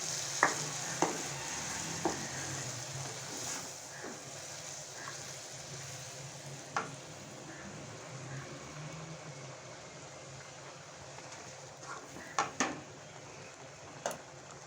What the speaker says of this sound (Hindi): अब हम इसमें दही ऐड कर देंगे। इसे अच्छी तरह मिक्स कर देंगे।